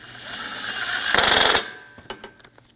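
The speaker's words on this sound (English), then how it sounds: "Snug the bolts down." A ratchet snugs down condenser bolts on a 2008-2015 Scion xB's AC condenser: a short, close, rapid run of ratcheting clicks lasting under half a second, followed by a few scattered light taps.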